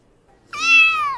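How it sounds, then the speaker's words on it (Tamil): A cat lets out one clear, drawn-out meow, close and fairly loud, rising slightly and then falling at the end, after a brief quiet start. "இது பூனை கத்தும் சத்தம்."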